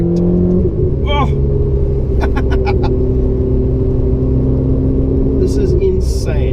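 A Ferrari 488 engine on a race track gives a loud, continuous in-car drone and rumble, rising and holding through the clip, with someone talking excitedly over it.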